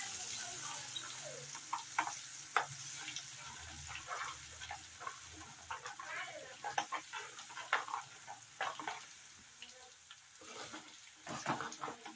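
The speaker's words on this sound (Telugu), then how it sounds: "కాగిన నూనెలోనే మటన్ తీసేసిన తర్వాత అల్లం వెల్లుల్లిపాయ పేస్ట్, పచ్చి వాసన పోయేంత వరకు ఫ్రై చేసుకోండి" Ginger-garlic paste frying in hot oil left over from cooking mutton. A faint, steady crackle with scattered sharp pops and occasional stirring clinks runs throughout, with no voices.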